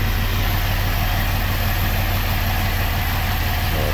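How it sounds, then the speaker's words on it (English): A V6 engine in a Chevrolet Equinox or GMC Terrain idles steadily on pure carb cleaner, a constant close low hum with an even, unbroken level throughout and no talking. "now we got the engine running on pure"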